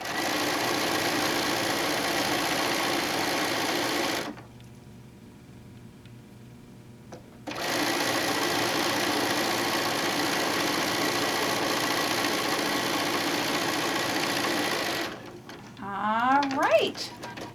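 A sewing machine stitches quilt blocks from fat quarter fabric in two long, steady runs of rapid mechanical whirring, separated by a short pause, followed by brief talk at the end.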